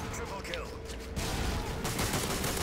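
Rapid AA-12 automatic shotgun fire in Modern Warfare 3 erupts into a dense burst of loud blasts in the second half, with talk over the game audio.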